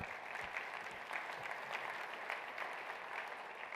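A keynote audience at the Acumatica Summit 2021 applauds in a steady wash of clapping that is even and fairly distant, with no voices over it.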